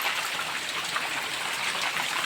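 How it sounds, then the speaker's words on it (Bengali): Heavy monsoon rain falls nonstop outdoors, a dense, even, loud hiss of countless drops with no pauses and no voices over it. "আর এই যে বৃষ্টি পড়েই যাচ্ছে,"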